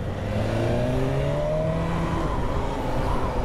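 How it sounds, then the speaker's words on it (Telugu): Heavy midday road traffic in a busy area of Hyderabad, with a dense, continuous roar of car and motorbike engines close by, rising and falling tones of accelerating vehicles layered over a steady rumble, with no talking. "ఎంత ట్రాఫిక్ ఈ ఏరియాలో"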